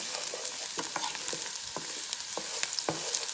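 Food sautéing in a Power XL cooker for smothered turkey wings, a constant bright sizzle broken by a series of short scraping stirs, close and moderately loud with no voices.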